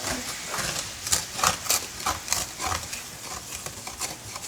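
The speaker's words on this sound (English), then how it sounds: "Scrape all this out of the bottom." Metal utensil scraping browned bits off the bottom of a hot pan while cooking an appetizer, heard as a series of irregular, close, gritty scrapes and knocks of varying loudness.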